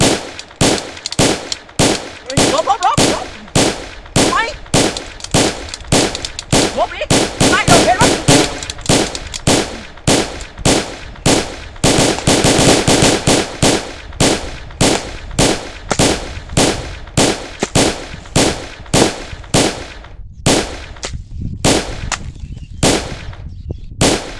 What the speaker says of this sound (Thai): ยิงกันนู่นนะ